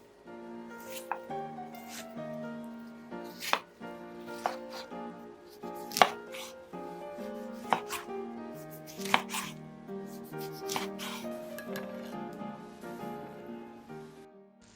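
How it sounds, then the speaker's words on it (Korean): Washed tomatoes being chopped into small pieces on a cutting board, a knife striking in irregular close taps over soft background music. "깨끗이 씻은 토마토는 작은 크기로 자르세요."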